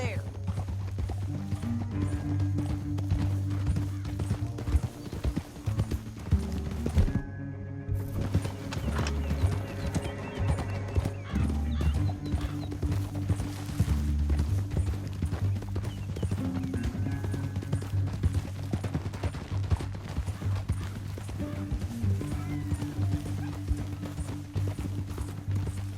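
Horses gallop in Red Dead Redemption 2, a steady rhythmic clip-clop of hooves running for the whole stretch with occasional neighs, under in-game talk and music.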